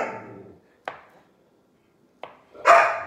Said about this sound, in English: we're going to put it on the chopping board for it to get chopped into slices